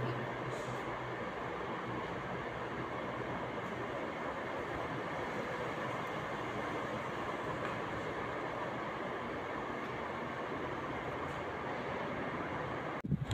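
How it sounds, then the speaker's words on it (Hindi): An electric metro train in Riyadh, Saudi Arabia, rolling past with a loud, steady rumble and clatter that holds for the whole stretch. "ये मेट्रो जा रही है"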